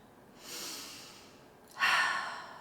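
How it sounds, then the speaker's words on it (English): Two audible breaths in yogic Ujjayi style, a soft breathy inhale followed by a louder, rushing throaty exhale made at the back of the throat, close and alone with no talk. "This is Ujjayi breathing."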